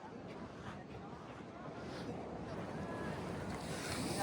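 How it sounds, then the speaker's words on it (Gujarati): Large waves surge and wash in at Poovar golden beach in Kerala, a rising, continuous roar mixed with heavy wind noise on the microphone, growing louder toward the end. "એકદમ અંદર ઊંડો હોય ને એટલે મોજો બી વિશાળ મોજા આવે છે"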